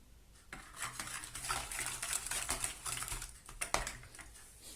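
Oil that has been cooled and eggs are whisked together in a bowl for a Paskalya çöreği (Easter bread) dough, giving continuous clinking and scraping strokes against the bowl, close and fairly busy, with no talk.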